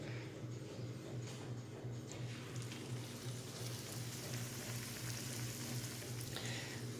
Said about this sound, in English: now we're gonna wait for them to fry